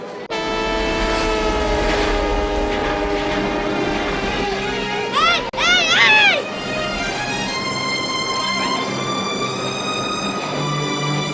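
A train rumbles past close by, sounding long, loud horn blasts throughout, with a wavering burst near the middle over the steady roar of the rail cars.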